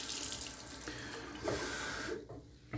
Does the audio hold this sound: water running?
yes